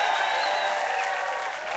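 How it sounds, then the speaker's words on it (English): An audience at an Oakland healthcare-for-all rally applauds with some crowd noise, a brief dense burst of clapping heard at moderate distance. "How about a round of applause for Tom Amiano?"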